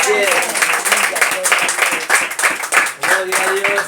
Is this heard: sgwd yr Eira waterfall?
no